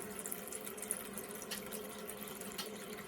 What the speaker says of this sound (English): So we'll turn the faucet on,